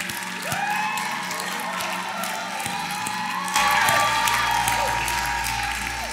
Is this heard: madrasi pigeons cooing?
no